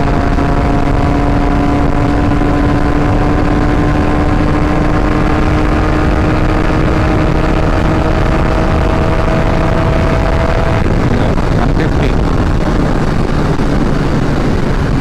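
A Benelli 300i motorcycle runs at speed on a road, its engine a steady high drone buried in heavy, continuous wind roar, with the engine tone dropping near the end.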